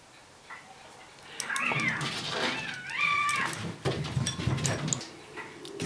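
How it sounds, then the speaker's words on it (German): Cats in a garden let out tense, drawn-out meows and wailing caterwauls, rising and falling over several seconds, fairly close and mixed with scattered rustling and clicks. "Meine Katzen haben ungewünschten Besuch im Garten."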